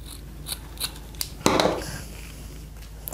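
Scissors snip wire on a flower crown tiara, with a crisp crunching cut in the middle preceded by a few small clicks, close and alone.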